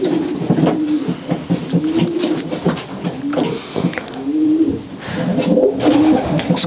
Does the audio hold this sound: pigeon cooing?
yes